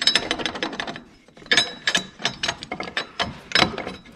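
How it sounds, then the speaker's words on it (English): A ratchet wrench works on the center bolt of a Bosch VE fuel injection pump on a 1.9 ALH VW TDI diesel, giving close, loud bursts of rapid metallic clicking in uneven strokes with brief pauses and no talking. "So we'll start tightening up the center bolt here, and it's pushing against our other center bolt."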